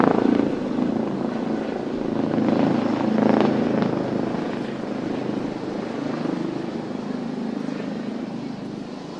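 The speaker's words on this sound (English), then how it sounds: "And that is a helicopter flying overhead." A helicopter passes overhead at an outdoor track meet, a steady broad rotor and engine roar that swells slightly around the middle and holds for the whole stretch with no talk over it.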